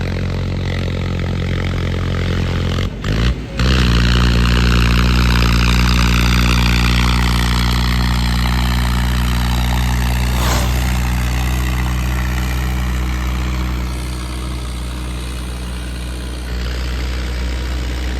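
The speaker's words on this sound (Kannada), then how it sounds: "ಎಲ್ಲ ಟ್ರ್ಯಾಕ್ಟರ್ ನೋಡ್ರಿ ಯಾವ ಥರ ಹೋಗುತ್ತೆ ಅಂತ ತೋರಿಸ್ತೀನಿ ನಿಮಗೆ" A tractor engine runs at a steady idle, close by, with a deep constant throb and even mechanical drone lasting throughout, broken briefly by a couple of short knocks early on.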